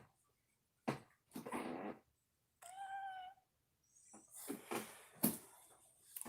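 A pet cat meows several times in a quiet room, one clear tonal mew standing out among short bursts of rustling and handling noise, fairly soft overall.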